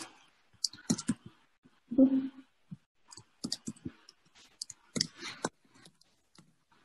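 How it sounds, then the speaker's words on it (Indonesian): Clicky computer keyboard typing while entering a Facebook ad campaign name, irregular bursts of close key presses with brief pauses and a short murmur of speech. "kita bisa juga langsung ngebuat nama campaign itu ngetik di sini"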